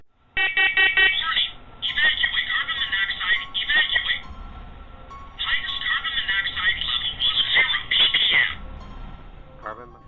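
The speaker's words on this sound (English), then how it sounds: "as soon as David starts talking about the smoke alarm again, it goes off on its own for a second time" Smoke detector going off with loud, shrill, rapidly pulsing electronic beeps in repeated bursts that break off and return, heard close and indoors.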